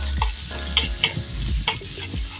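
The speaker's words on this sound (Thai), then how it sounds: "นี่เราก็จะผัดพริกแกงกระเทียมแล้วก็พริก" Curry paste with garlic and chili stir-fried in a pan for a Thai pork curry, giving a steady close sizzle with several sharp scraping strokes of the spatula and no voices.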